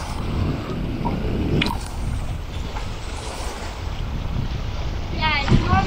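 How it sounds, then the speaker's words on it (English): Wind blowing at a windy shore with whitecaps, a constant loud rumbling buffet across the microphone throughout, with faint splashy water movement underneath. "Let's see if I can get out of the wind a little bit."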